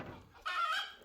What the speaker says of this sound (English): My neighbor's chickens are driving me nuts